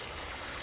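A garden water feature cascades in a steady, close splashing rush of water, continuous and even through the brief moment.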